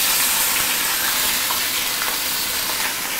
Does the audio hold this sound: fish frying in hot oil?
yes